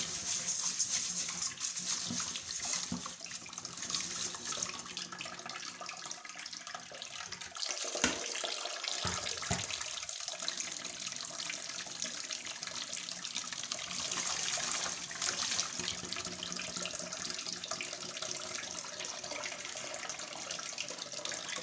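Running tap water splashing over rice in a sink as the grains are washed before making vegetable pulao, a steady close rush of water for the whole stretch with a brief lull midway.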